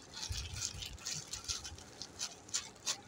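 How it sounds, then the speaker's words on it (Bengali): Fried dried fish (shutki) being crushed into powder by hand, a run of soft, irregular crunching and crackling taps, close and fairly quiet, with no voices heard. "এখন শুটকিটাকে গুঁড়া করা হচ্ছে, দেখুন ভেজে গুঁড়া করা হচ্ছে।"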